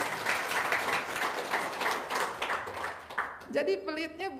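An audience at a motivational seminar breaks into brief applause, a soft, steady wash of clapping from a moderately distant crowd that ends as a voice starts speaking.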